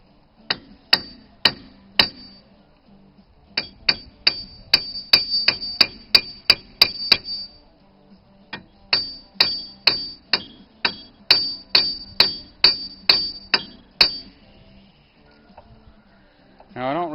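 A framing hammer strikes a car's wheel bearing on a Dodge Stratus in sharp metallic whacks, fired in quick bursts of repeated blows with short pauses between groups, close and loud.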